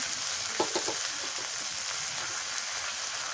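Garlic-onion paste and ground turmeric hitting hot oil in a pan give a continuous soft hiss of sizzling, with a few brief scraping stirs near the start.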